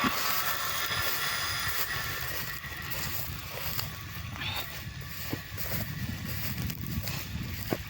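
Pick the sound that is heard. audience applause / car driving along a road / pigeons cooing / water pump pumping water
water pump pumping water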